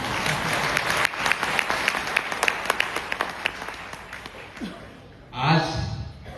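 Applause from an audience at an anniversary celebration in India, many hands clapping with sharp individual claps standing out, fading toward the end as a voice begins speaking briefly under a hall echo.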